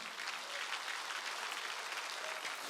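Church congregation clapping during a Sunday worship service, a dense, even wash of applause from many hands, sustained and fairly close throughout without voices over it.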